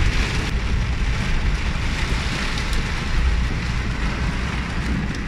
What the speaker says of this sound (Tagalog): bumuhos dito yung napakalakas na ulan